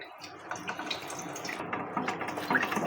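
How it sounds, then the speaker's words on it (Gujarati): Water poured over flattened rice (poha) being rinsed for batata poha, a steady close splashing and trickling with small liquid pops throughout, no voices. "આ રીતના પાણી એડ કરી પૌવાને આપણે ધોઈ લઈશું"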